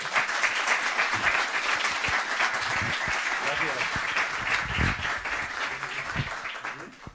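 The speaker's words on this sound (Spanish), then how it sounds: "un aplauso para Clau." Sustained audience applause at the close of a talk on earthquakes and archaeology in Ceuta, a dense even wash of clapping lasting throughout and fading slightly at the end, with some voices mixed in.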